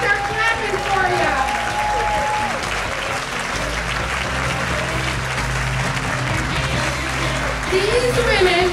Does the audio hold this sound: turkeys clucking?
no